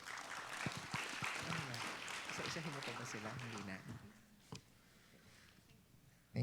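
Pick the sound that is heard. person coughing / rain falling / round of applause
round of applause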